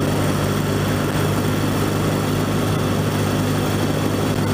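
A 1964 Royal Enfield Interceptor Mk1 motorcycle drones steadily while being ridden, a loud continuous engine note mixed with rushing wind noise and no pauses.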